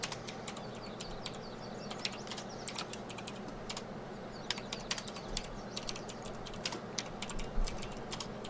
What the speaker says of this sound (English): typing out a rant to somebody.